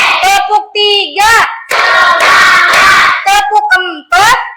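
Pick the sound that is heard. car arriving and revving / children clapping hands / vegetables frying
children clapping hands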